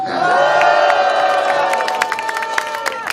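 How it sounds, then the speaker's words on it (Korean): Crowd at a rally in Korea breaks into loud cheering, whoops and clapping, a dense sustained roar with sharp claps and shouts poking through, staying near and full throughout. "여러분 박수 한번 주십시오."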